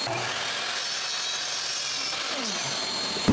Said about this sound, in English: I'll go ahead and cut this first cut and see what we're working with